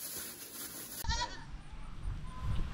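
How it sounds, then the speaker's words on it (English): Goats bleating at close range, a short wavering bleat after a sharp onset, followed by lower rumbling movement, with no talk. "Bye, goats."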